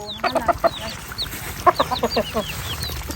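Farmyard chickens cluck close by in two quick bursts of short, choppy calls separated by a brief lull, with light ambient noise behind.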